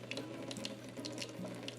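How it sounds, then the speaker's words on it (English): Well water running steadily from a tap, splashing and pouring continuously into canning jars of sweet corn, fairly quiet with no voices. "Here I'm adding the water. Again, we have well water, so I'm using it straight out of the tap"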